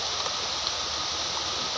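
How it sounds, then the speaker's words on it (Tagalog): Sudden rain falling after a hot day, a steady broadband hiss of downpour that stays even and fairly loud throughout, with no talking over it. "Nabilad ng init kanina, tapos ngayon ulan."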